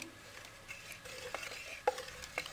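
Cream is churned into butter in a pot with a wooden hand churner, giving a soft, continuous sloshing stir with a few light knocks and clicks, fairly quiet and with no voices.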